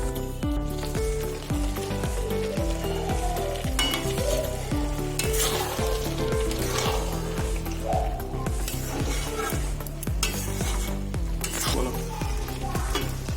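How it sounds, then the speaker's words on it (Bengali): Grated carrot halwa cooking down in milk is stirred in a pan, a loud, continuous bubbling sizzle with rhythmic scraping strokes, overlaid by a steady musical hum throughout. "তো দেখো আমি এবার একটু নেড়ে ছেড়ে দেখিয়ে দিচ্ছি তোমাদেরকে"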